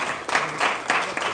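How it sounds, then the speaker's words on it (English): An audience at the 7th Pan African Pyramid Awards ceremony gives another round of applause, a steady wash of clapping from a crowd in a hall, moderately loud and with no voices over it. "Can you have another round of applause, please?"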